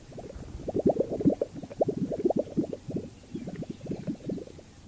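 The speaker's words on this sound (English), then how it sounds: "The male Gunnison sage grouse of the United States produce distinctive sounds like clogged plumbing by inflating their specialized neck pouches" Male Gunnison sage grouse displaying with inflated neck pouches, giving rapid bubbling, gurgling pops like clogged plumbing in irregular bursts, close and fairly loud over a quiet background.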